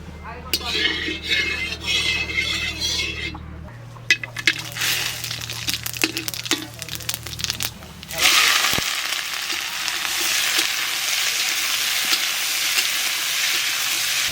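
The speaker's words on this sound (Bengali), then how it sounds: "ওইদিকে মাছ ভাজা হতে হতে এদিকে মাটনটা চাপিয়ে দিই" Fish fries in oil while mutton goes into a pan. Crackling and stirring with metallic clinks give way to a loud, steady sizzle in the second half.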